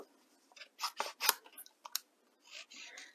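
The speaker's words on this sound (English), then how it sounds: "Now we're going to cut this out." Scissors snip through cardstock to cut out a stamped paper otter at a craft table, a close series of short crisp crunching cuts in quick bursts with brief pauses, no talking.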